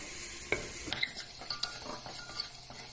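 A spoon stirs ground cumin, coriander and other spices in a pan on the stove, giving soft scraping and a few light clinks over a faint sizzle, quiet and close.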